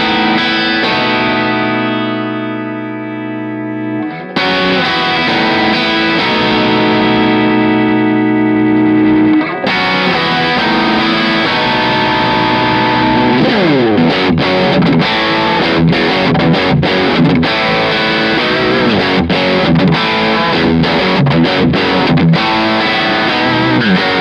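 Electric guitar through a single-channel compressed, overdriven amp with the guitar volume rolled back about halfway: sustained chords ring out, then a run of crunchy, gritty strummed and picked notes, fairly loud.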